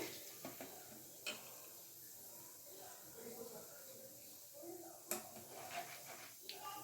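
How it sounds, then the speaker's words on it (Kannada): Chickpeas frying in oil in a pan for a cornflakes snack mixture, a soft steady sizzle with occasional sharp clicks and stirring scrapes under talk. "ಕಡಲೆ ಫ್ರೈ ಮಾಡ್ಕೊತಿದ್ದೀನಿ"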